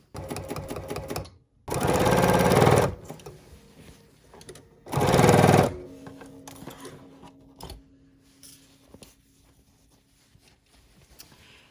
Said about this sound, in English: I'm sewing with the batting side up because that way I can see that I'm not getting any of my fabric